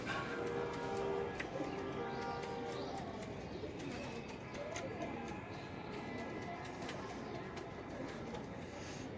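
Flying-breed pigeons coo faintly in the background, soft and mostly masked by steady ambient noise.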